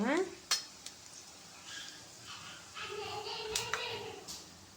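Mustard seeds and cumin dropped into hot oil for tempering, a soft sizzle with sharp crackling pops and spoon scraping against the pan, fairly quiet, with a voice talking over it.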